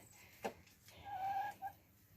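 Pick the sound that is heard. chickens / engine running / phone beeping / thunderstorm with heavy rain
chickens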